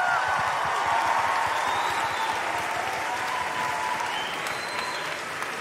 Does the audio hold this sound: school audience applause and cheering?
yes